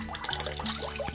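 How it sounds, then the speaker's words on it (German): Spring water runs steadily from the Kropfbrunnen fountain on a hillside path above Hallstatt, a close, continuous splashing trickle with no voices. "Eine Quelle. Das ist der Kropfbrunnen."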